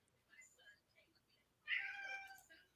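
A person imitates a cat with one drawn-out meow, fairly close and clear, following a few seconds of quiet, muffled voices.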